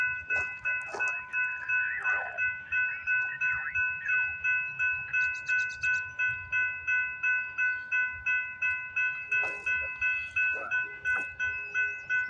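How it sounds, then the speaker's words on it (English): A CPKC westbound freight train passes with a steady, regular clatter of wheels over rail joints, continuous and fairly close, with sustained high tonal squeal from the cars and faint chirping above it. "we got a CPKC westbound train coming down the line"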